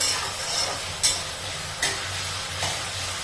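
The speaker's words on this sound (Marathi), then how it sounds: "तिथे आपण शेंगदाणे सॉरी बटाटे मस्त असे म्हणजे परतवून घेतोय" Potatoes sauté in a pan for sabudana khichdi, a steady close sizzle with a few sharp scraping stirs of the spatula punctuating it.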